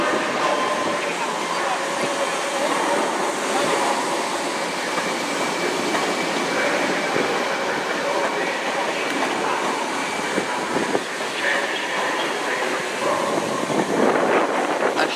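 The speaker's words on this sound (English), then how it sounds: "313204 is departing right now with the 11:43 Southern service to Hove" Class 313 Southern electric train pulling out of Brighton station, a steady broadband rumble of rolling stock and station ambience throughout, with occasional metallic clatter and faint squeal as it departs.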